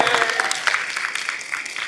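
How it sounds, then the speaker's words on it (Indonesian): Students in a school organization session clap together on request, a short burst of dense, fairly loud hand clapping close by that tapers slightly toward the end. "Tepuk tangan dong."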